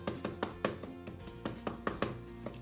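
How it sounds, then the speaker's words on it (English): A knife finely minces very spicy chili for salmon poke, with quick, steady thunks and taps about every fifth of a second, close and fairly loud, with no talking. "I'm just going to just chop it really into, mince it into really fine"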